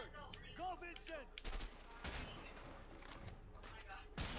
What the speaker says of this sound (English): Oh, this sniper rifle is awesome.